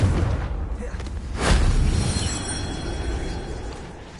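A Confringo fire spell in Hogwarts Legacy on PS5 lands as a deep, rumbling boom that swells and slowly fades over a dense low roar, with game sound throughout.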